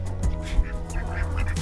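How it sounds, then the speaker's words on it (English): Guinea fowl in a backyard flock with chickens give harsh, repeated squawking calls, several short bursts at moderate volume over a low background rumble. "there's a couple of guineas right there"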